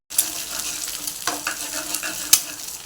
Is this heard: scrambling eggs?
yes